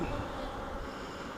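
Honey bees fan inside an open hive, a dense, close, continuous buzzing drone that holds steady throughout the short moment.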